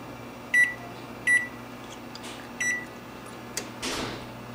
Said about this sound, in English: Now set your timer for 15 minutes.